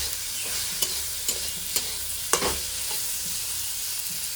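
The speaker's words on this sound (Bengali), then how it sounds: "ভালো করে নাড়িয়ে চাড়িয়ে নেবো। ভেন্ডি এবার ফুটুক কেমন লাগে।" Okra stirred and frying in a pan with salt and turmeric, a steady close sizzle broken by several sharp scraping clicks of the spatula, with no talking.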